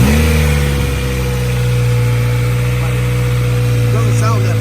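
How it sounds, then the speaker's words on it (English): A motor with an aftermarket exhaust idles loud and close, a steady deep drone that holds throughout, with faint speech over it near the end. "Like, the motor sounds really healthy. It has an exhaust on it, so it might be a little loud."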